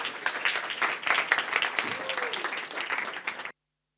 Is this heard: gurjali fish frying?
no